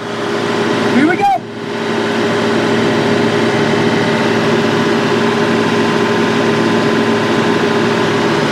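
A tractor engine running at PTO throttle gives a loud, steady, close mechanical drone that holds constant throughout, broken only by a brief squeaky chirp near the start.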